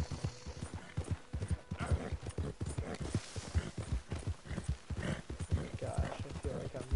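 Steady clip-clop of horse hooves in Red Dead Redemption 2 while riding, a continuous rhythmic trot with heavy low thuds running the whole time, with occasional voice underneath.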